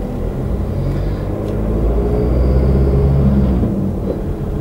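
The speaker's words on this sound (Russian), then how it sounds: "Ну, дизелек мой, конечно, шумит." Diesel car engine running while driving, a loud steady low rumble with road noise inside the cabin, swelling slightly midway and easing off near the end, with no talking.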